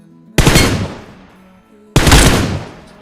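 Two loud, sharp single gunshots from the video game PUBG Mobile, spaced about a second and a half apart, each followed by a long decaying tail.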